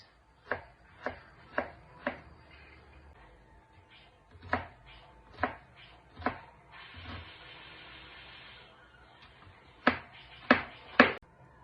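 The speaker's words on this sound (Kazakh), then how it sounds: "Осылай барлығын ұсақтап турап алдым." A knife chops crab salad ingredients finely on a cutting board: sharp, distinct thuds in a loose rhythm, about a dozen in all, a pause in the middle, then a quick final cluster, no talking.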